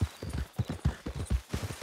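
A horse's hooves clip-clop at a steady walking rhythm in Red Dead Redemption 2, loud and close, with no talk over them.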